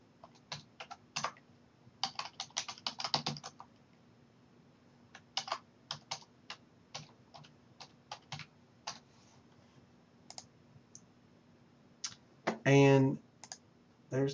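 Keys clatter on a computer keyboard in uneven bursts of quick clicks with pauses between, fairly close and clear, with a short voice near the end.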